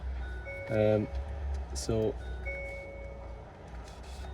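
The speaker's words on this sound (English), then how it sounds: "I'm really sorry about the beeping." Inside a 2021–2024 Hyundai Tucson hybrid during centre console removal, two short bursts of stacked electronic chime tones ring out with steady cabin warning tones beneath, while someone talks over them.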